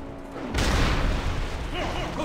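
A sudden loud boom opens into a sustained rumbling barrage of cannon fire in World of Warcraft's Deadmines dungeon, with a voice briefly under the noise.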